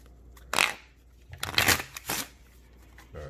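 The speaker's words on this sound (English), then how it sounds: "Now, before you start the trick, you're gonna shuffle both cards." Playing cards being shuffled at close range for a magic trick, several quick riffling bursts in short succession, crisp and fluttery, with no talk.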